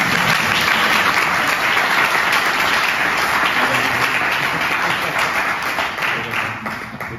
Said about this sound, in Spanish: Bueno, que lo aplaudan a Adam.